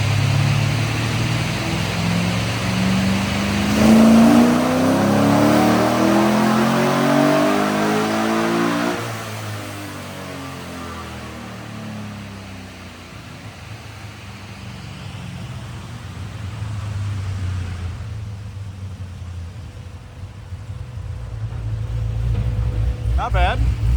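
A 1967 Corvette pro-touring car with an LS3 V8 revs up loudly on a dyno, its pitch climbing over several seconds before dropping back to a lower, steadier roar and rising again at the end, with voices talking over it.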